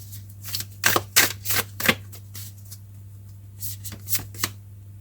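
Tarot cards are shuffled in a series of quick riffling bursts, three close together and then more after a pause, crisp and near over a low steady hum.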